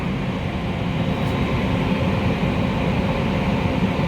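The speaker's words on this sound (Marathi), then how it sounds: "चला मंडळी आपली ट्रेन चाललेली आहे" A passenger train in motion, heard as a continuous loud low rumble and rolling drone, steady and close, with no distinct clacks standing out.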